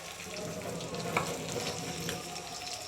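Spice masala for crab curry frying in a pan, a steady, fairly faint sizzle with a soft stirring texture throughout.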